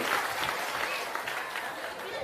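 A crowd claps loudly and continuously for Prashant Kishor at an outdoor village gathering at an inter college in Mahishi Block, forming a dense, even wall of applause.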